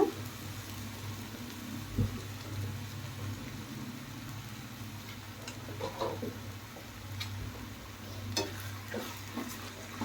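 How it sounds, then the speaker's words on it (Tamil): Tomatoes with salt sautéed in a pan for a kurma: a faint, steady sizzle over a low hum, broken by occasional soft scraping stirs and clicks, with no talking. "இதெல்லாம் நல்லா வதக்கி விடலாம்"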